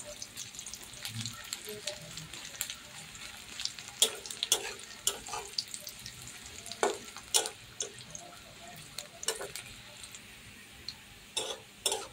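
Onions sizzle quietly as they brown in a pan for a leafy greens dish, a soft steady crackle broken by frequent sharp clicks and scrapes of stirring.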